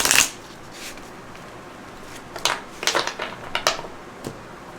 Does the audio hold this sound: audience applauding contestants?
no